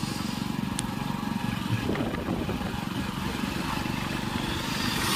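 A Hero HF Deluxe motorcycle being ridden on a rainy day, its engine giving a steady close putter under constant wind rush, with one brief high tone near the start.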